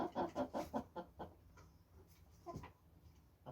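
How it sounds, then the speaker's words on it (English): Backyard chickens cluck faintly in a quick series of short calls, then scattered softer clucks follow after a pause. "let's interview the other chickens, see what they think about the impending hatching of more chickens"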